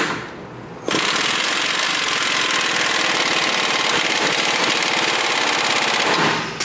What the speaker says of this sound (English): So now we're gonna tighten our lower coilover bolt, back it up with a 21 millimeter wrench,